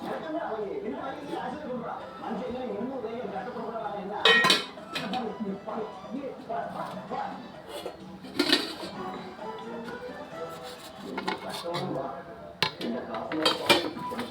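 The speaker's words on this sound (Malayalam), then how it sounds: "ഇഡ്ഡലി കുട്ടകത്തിൻ്റെ അടപ്പെടുത്ത് അടയ്ക്കാം" A metal idli steamer lid is set onto a pot amid clattering of kitchen vessels, with several sharp metallic clanks and clinks spread across the clip while a person talks nearby.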